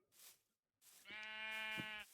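A Minecraft sheep gives one clear, close bleat, a buzzy wavering cry lasting about a second, after a brief bit of faint background sound.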